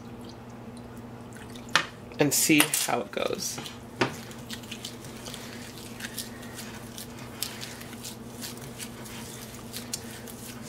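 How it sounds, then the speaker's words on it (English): Water is poured and dripped into a vegan curry seasoning mix a spoonful at a time, with short splashy pours and drips near the start and scattered small drips afterward over a steady background hum, with a voice speaking briefly. "Alright, I'm going to start adding water in here."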